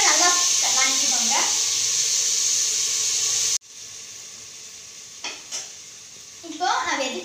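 Chopped tomatoes sizzle and hiss loudly in a hot pan for vegetable kurma, then drop to a softer simmer with occasional stirring scrapes.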